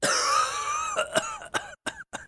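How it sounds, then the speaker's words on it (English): A run of harsh coughs, one long rasping fit followed by several short, sharp coughs spaced apart, close and fairly loud. "Kick out mucus and quiet the cough"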